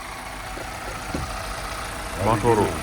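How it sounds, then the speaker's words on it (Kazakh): A Toyota Camry engine runs at a steady low idle, a faint continuous hum with brief voices near the end. "Мотор өте жақсы жұмыс істеп тұр."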